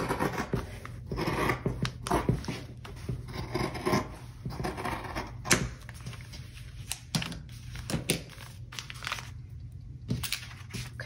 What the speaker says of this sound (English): I'm going to cut out around it